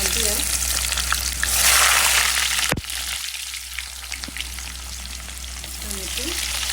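Onions frying in hot oil for a spiced liver curry, a loud dense sizzle with stirring scrapes, swelling early, then dipping after a sharp knock before building back steadily.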